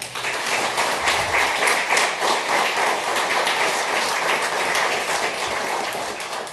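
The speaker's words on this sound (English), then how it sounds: "They need an applause for that." An audience at a territorial State of the Territory address breaks into sustained applause, dense clapping that holds steady and loud throughout, with a faint murmur of voices underneath.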